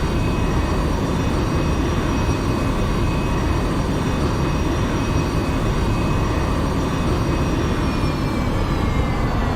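Simulated airliner engines roar steadily at full takeoff power in the X-Plane 11 flight simulator, a loud, unbroken jet rumble with a faint rising whine and no voices.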